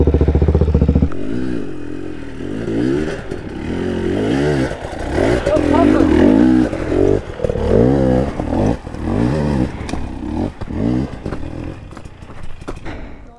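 Suzuki DRZ400 dirt bike engine labouring and revving on a steep enduro trail, close and loud, with uneven throttle blips, clatter and scraping as the bike struggles uphill, and someone talking over it.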